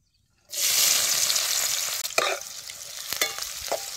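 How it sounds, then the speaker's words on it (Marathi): Long-sliced onion drops into hot oil with cumin in a kadhai and bursts into a loud, close sizzle that keeps crackling steadily, with a few sharper pops and stirring scrapes. "त्यात कांदा चांगला लाल होतोर भाजून घ्यायचा."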